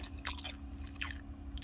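Crunchy strawberry tanghulu candied fruit is chewed close to the mic, producing several crisp, brittle crunches in short bursts with quiet pauses between bites.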